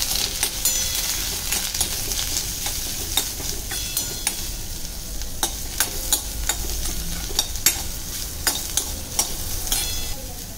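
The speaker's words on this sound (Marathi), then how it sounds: "लसूण कांदा लाल होईपर्यंत" Garlic and onion sauté in about a spoonful of oil in a pan, a continuous close sizzle with frequent scraping stir strokes and small metallic taps throughout, no one speaking.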